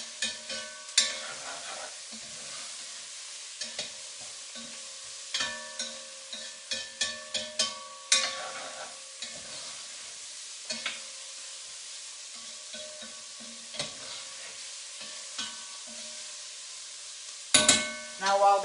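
Cubed ham chunks brown in a hot pan for smothered green beans, giving a soft steady sizzle broken by scattered scraping stirs and clinks, with a brief louder clatter near the end; no one talks.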